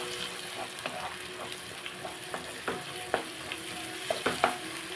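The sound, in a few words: frying coriander and cumin powder in a pan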